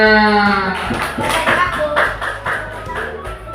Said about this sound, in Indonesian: Yuk, kasih aplaus semuanya.